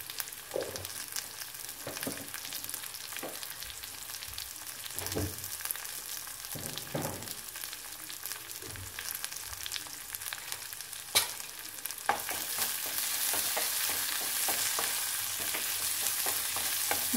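Mint and curry leaves sauté in hot oil with a steady, close sizzle and intermittent stirring scrapes, and the hiss grows louder and denser in the final seconds.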